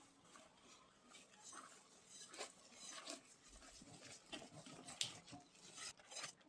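A spoon scrapes and clinks against a bowl while a mixture with added starch is stirred, quiet irregular taps and swishes close up.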